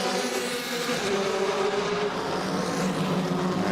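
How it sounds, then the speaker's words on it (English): Race car engines drone and roar continuously at the Hockenheimring circuit as taxi-ride cars lap after a Porsche Carrera Cup race, the engine tone shifting pitch as they pass at a moderate distance. "loads of cars go out with taxi rides around the circuit now to drown out the sound of the podium"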